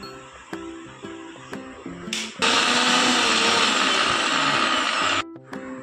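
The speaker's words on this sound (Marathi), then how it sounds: "हे बघा आले लसूण व कोथिंबीर पेस्ट बनवून घेतली आहे मिक्सरमधून" A kitchen mixer grinder blends ginger, garlic and coriander into a paste, a loud close whirring roar running for about three seconds, with lighter clatter and handling knocks before and after.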